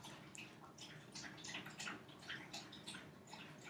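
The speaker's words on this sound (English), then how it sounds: "My dog's drinking water." A dog laps water from a bowl nearby, giving a quiet, rapid run of wet splashes and drips that keeps going at low volume.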